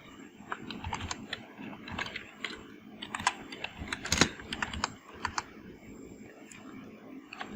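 Keys clatter on a computer keyboard in quick, irregular bursts of close, crisp taps, quiet overall, with a few louder strikes and no talk.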